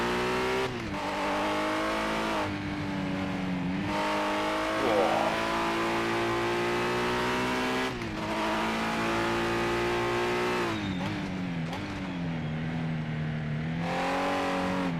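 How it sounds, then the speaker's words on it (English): Race cars in Project Motor Racing, a GT Icons pack on PS5, run in practice mode: a loud, continuous engine drone rises and falls through gear changes, with a brief tire squeal. Other cars share the track. "There is cars on track, as you can see."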